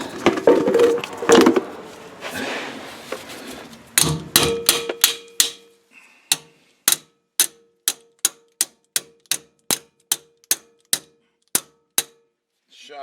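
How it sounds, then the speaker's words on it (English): Hammer blows on a classic Ford Mustang 8 inch rear differential, starting as scattered clanks mixed with workshop noise, then turning into a long series of sharp, evenly spaced metallic strikes, loud and close. "we're going to have to beat on it a little bit"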